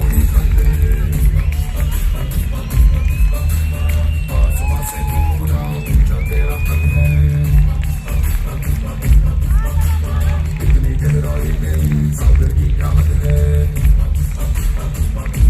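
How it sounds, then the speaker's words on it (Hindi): A big audience claps, cheers and whoops in a continuous loud roar as guest Bhushan Patel is welcomed at a Safeshop network marketing stage event. An announcer's voice carries over the noise of the crowd. "जोरदार तालियों से वेलकम करेंगे"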